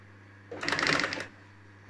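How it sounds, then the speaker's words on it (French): A sewing machine stitching upholstery for a guitarist's stool runs in one short burst of under a second, close and clear. A quiet steady hum sits before and after it. "Toujours par à-coup hein, lorsqu'on coud."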